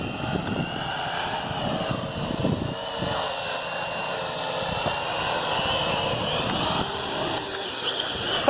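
A Venom Pro GPS streaming drone flies and comes in to land in a park. Its rotors give a steady, loud buzzing whine throughout, with a small bump in level right at the end.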